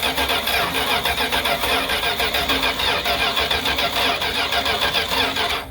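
A 1978 Plymouth Trail Duster engine cranks and catches, running rough and loud up close in a dense, steady drone with rapid pulsing, with no talking over it.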